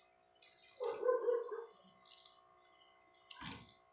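Water pours briefly into empanada dough being mixed by hand, a short splash followed by softer wet sounds and a second splash near the end.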